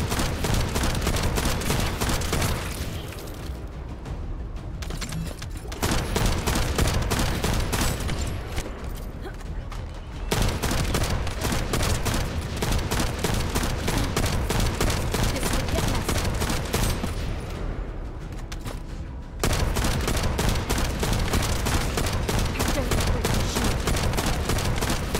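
Sustained rapid automatic gunfire in The First Descendant, long loud bursts of continuous shots separated by a few short pauses.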